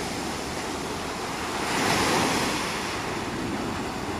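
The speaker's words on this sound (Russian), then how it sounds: "Во-вторых, волны." Cold autumn sea waves break on a Turkish shore in a steady, loud, continuous wash that swells to a crest midway, with wind rumbling across the microphone and no voices.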